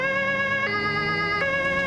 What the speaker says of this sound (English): So we are going to be turning both these sirens off because of how annoying they are.